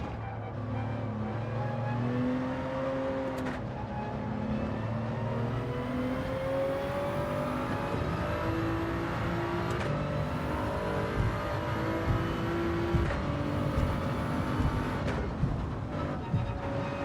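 A race car in a time trial accelerates out of a corner with two stabs at the throttle, its engine note rising and falling repeatedly in a steady, moderately loud whine over about seventeen seconds.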